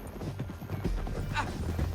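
A horse gallops in Red Dead Redemption 2, rapid clip-clop hoofbeats close by under game voices, with a short neigh near the end.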